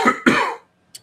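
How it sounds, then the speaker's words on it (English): Two quick, fairly loud coughs come close together, with a faint click after them and no talking. "I just had a cough"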